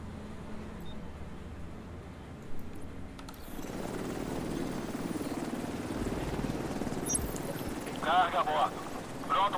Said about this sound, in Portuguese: Helicóptero mudando a base.